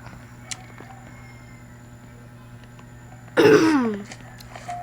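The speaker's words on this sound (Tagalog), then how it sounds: "So, inuubo nga pala ako." A single close, loud cough bursts out after several seconds of quiet room hum and fades quickly.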